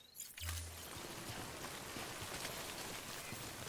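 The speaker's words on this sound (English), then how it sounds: "is this Timefall rain?" Timefall rain in the video game Death Stranding falls as a steady, faint hiss of raindrops, preceded by a brief low thud at the start.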